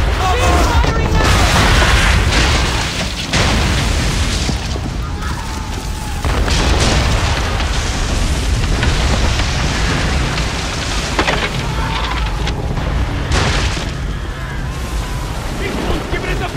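Ship cannons firing in the Assassin's Creed 3 naval battle, heavy booming blasts rolling over a constant rumble of sea and rain, loud and close, with shouting voices mixed in.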